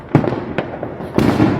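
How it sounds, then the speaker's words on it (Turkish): Fireworks going off close by in a few sharp bursts, each crack trailing into crackle, loud and without talk. "Havai fişek patlıyor."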